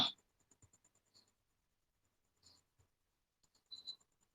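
Quiet scratching strokes as a pen or chalk writes on a surface in a classroom lesson, coming in short sparse bursts separated by silence.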